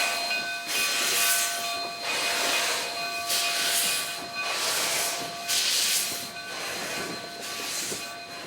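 Steam locomotive No. 489 on the Cumbres & Toltec line moving toward the coaling spur, rhythmic chuffing bursts of steam over a steady hiss, with a sustained whistle tone running through.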